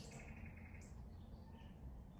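Starlings and blackbirds singing softly in the distance, a few chirps and song phrases over a steady low background rumble.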